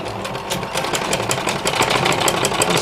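A sewing machine stitches a pocket onto a trendy tunic, running steadily and fairly loud with a dense mechanical whir and a rapid needle rhythm throughout, alone without talk.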